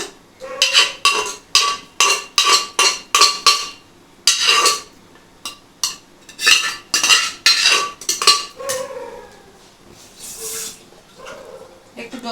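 Cooked mung dal with vegetables, curry leaves and mustard seeds is poured out of a metal pot, heard as a rapid series of sharp clattering, scraping bursts from the pot and spoon, ending in a softer, quieter stretch.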